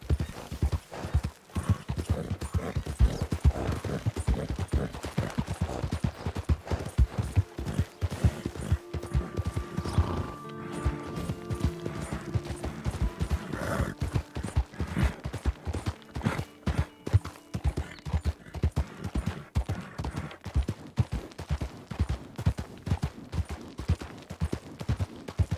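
Horse hooves clip-clop steadily and densely throughout in a roleplay game, loud and close, with brief tonal sounds partway through.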